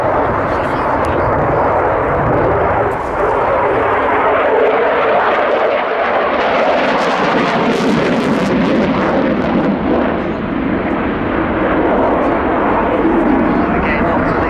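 A loud, continuous roar of an aerobatic airplane pulling a very tight, roughly 9 G turn at the RAF Cosford Airshow 2024, with the engine sustained and surging throughout while a commentator talks over it.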